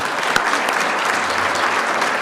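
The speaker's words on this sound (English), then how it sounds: "I gotta clap on that one." A large audience claps at a university nursing pinning ceremony, with thick, continuous applause and one sharper clap standing out near the start.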